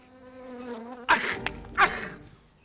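Bees buzzing close by, a thin wavering insect drone with harmonic hum, interrupted by two sharp loud bursts of noise, in a comedy sketch scene set among beehives.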